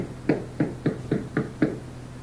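Six evenly spaced knocks on a door in a historical Acehnese drama, solid mid-pitched raps at a steady, deliberate pace over a faint background hum, with no voices.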